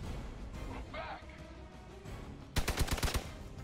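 A burst of gunfire in the Marvel's Midnight Suns video game, a rapid series of sharp, loud shots about a second long, heard over busy game sound.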